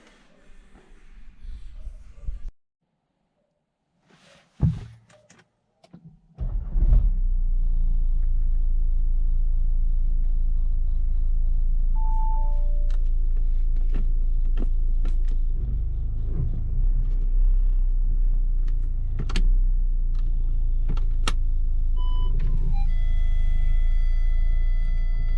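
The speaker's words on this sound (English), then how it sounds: "So now I can take the car for the test drive." Audi A6 with a DSG transmission (0B5) on a test drive after a dual mass flywheel replacement: steady, loud low engine and road rumble fills most of the clip after a few seconds of quiet handling noises and clunks, with brief chirps and clicks.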